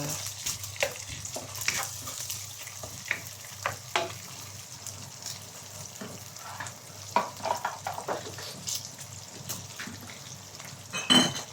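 Fried rice with leftover scrambled egg being stir-fried in a pan, with a soft steady sizzle and scattered scraping and clinking of a utensil against the pan, fairly close and with no talk.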